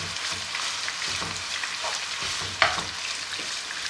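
Meat tossed into a hot pan for a Turkish yağlama dish sizzles and fries steadily while its juices cook off, a dense continuous crackle with one sharper spatter near the end and no talking.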